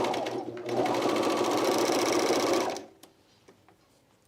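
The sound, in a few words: sewing machine stitching binding on a camisole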